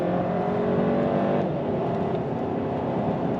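Volkswagen Golf Sportwagen MK7 engine revving under throttle while driving, a loud steady engine roar whose pitch shifts partway through, with no talking.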